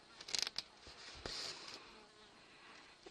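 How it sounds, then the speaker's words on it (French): Flies buzzing close by in short bursts, a few brief whines around the first half-second and again near 1.3 s, then fading to a faint hiss, with no talk. "on est bien embêté déjà par les mouches"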